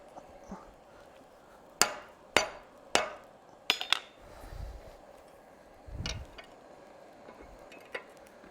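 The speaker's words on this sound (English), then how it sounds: "And then I'm going to hammer right in here." A blacksmith hammers a forged steel bracket clamped in a vise, a handful of sharp ringing metallic blows in an uneven cluster, followed by quieter handling thumps and one last light tap.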